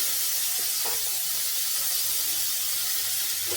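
Chopped tomatoes dropped into a small amount of hot oil hiss and sizzle steadily, a loud continuous frying spray with faint clinks underneath.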